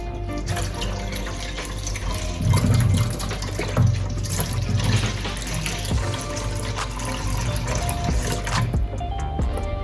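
Evaporated milk pours into a bowl for Jamaican-style bread pudding, a continuous close liquid stream with light splashing that runs for several seconds.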